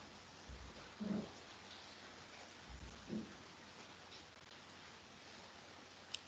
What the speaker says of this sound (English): Is it raining across everywhere?